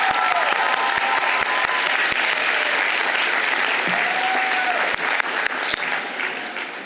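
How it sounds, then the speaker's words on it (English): A large commencement crowd at Georgetown University Law Center breaks into loud, sustained applause, a thick continuous roar of clapping with occasional sharp clicks and a faint whistle, easing slightly near the end. "another round of applause for Jade Baker"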